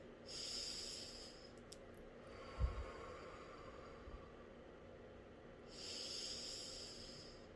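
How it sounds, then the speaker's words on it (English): Several slow, deep breaths drawn in through the nose, each a soft rushing hiss at a moderate level, with quiet pauses in between during a guided mindfulness session. "Let's go ahead and take 3 intentional deep breaths in through the nose."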